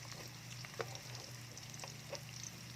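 Three cloves of garlic frying in a pan for ginisang upo with ground meat, a faint steady sizzle with a low hum beneath and a couple of soft utensil taps.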